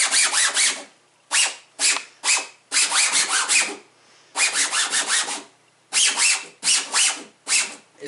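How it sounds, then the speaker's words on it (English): Repeated bursts of rough, scratchy sanding on 3D printed plastic, quick back-and-forth strokes in short groups separated by brief pauses, close and alone. "every time I'm sanding this stuff"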